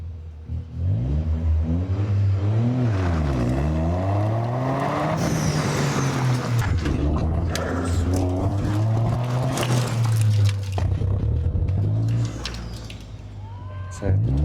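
A Toyota Aqua rated at 261 horsepower with turbo boost revs loudly and close, its engine tone climbing and falling in repeated sweeps before settling into a sustained drone.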